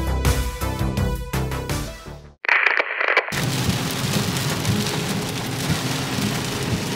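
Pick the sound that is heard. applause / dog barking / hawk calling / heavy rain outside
heavy rain outside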